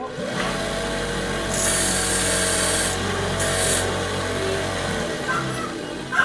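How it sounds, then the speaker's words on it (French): A grinding wheel shortens a metal part for a homemade folding knife, giving a steady, harsh, close abrasive rasp that swells with bright hissing bursts as the piece is pressed harder against it. "On va le passer un tout petit coup à la meule pour raccourcir."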